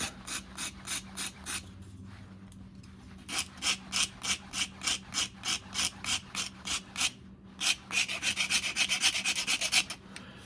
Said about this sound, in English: I'll take the finer side of the Shinto file. Taper that a little bit.